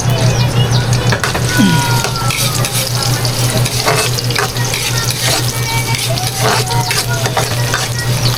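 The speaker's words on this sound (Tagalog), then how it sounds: "gisa na tayo ng bawang at sibuyas" Garlic and onion sauté in a hot pan, sizzling steadily under stirring scrapes, with a faint tap-water trickle and a low constant hum in the background of a home kitchen.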